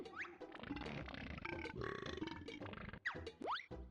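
Cartoonish burp sound effect from the video game Banjo-Kazooie, a series of gurgling, stretched belches over about four seconds ending with springy, rising boing-like tones, fairly quiet.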